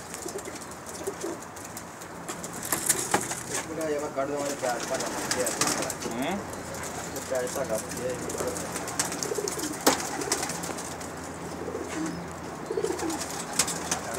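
Racing pigeons coo in soft, repeated throaty calls amid other bird sounds and a steady, busy outdoor background.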